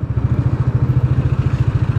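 A Bajaj Dominar 400 motorcycle engine cruising in fifth gear on a city road, a loud, steady, rapid low thumping pulse of the single-cylinder motor with road and wind noise underneath.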